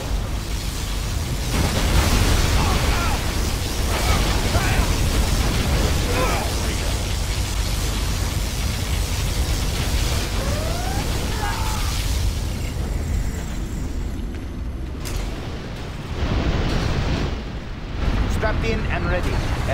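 A particle cannon in C&C Generals Zero Hour unleashes a long, roaring blast, a dense rumbling wash of explosive noise with crackling bursts that swells and dips, while game voice lines speak over it.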